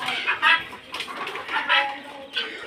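Chickens on a small poultry farm cluck in several close, loud bursts, a busy flock calling back and forth with short pauses between calls.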